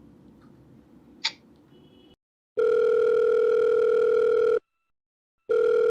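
On an outgoing phone call, a faint click is followed by a loud, steady electronic ringback tone lasting about two seconds. After a short silence, the tone starts again. No one speaks.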